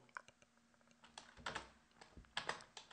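Someone types C++ code on a computer keyboard. The quiet, close keystrokes come in quick, uneven bursts with short pauses between them.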